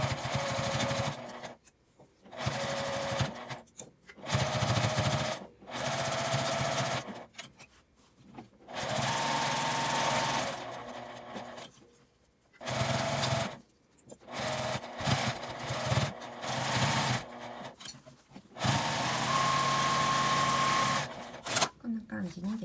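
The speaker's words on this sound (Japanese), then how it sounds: "これで一周ぐるりと端ミシンをかけます。" A sewing machine stitches around the edge of a pleated cotton cloth face mask in repeated loud, close bursts of fast whirring, each a few seconds long and separated by short pauses.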